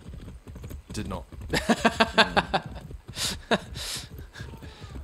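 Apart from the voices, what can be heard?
horse galloping in the video game Far Cry 6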